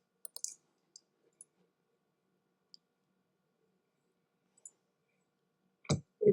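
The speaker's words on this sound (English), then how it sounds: "What are you typing in the keyboard?" Typing on a computer keyboard, a handful of sparse, isolated key clicks scattered over a quiet room, ending in a couple of louder taps close by.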